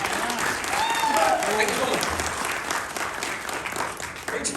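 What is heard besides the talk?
audience applause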